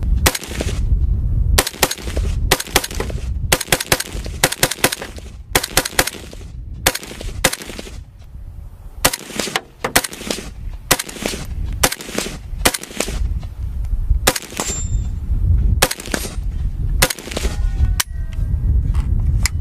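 AK rifle firing single semi-automatic shots, sharp loud reports spaced irregularly across the clip, each with a brief echoing decay, no talking.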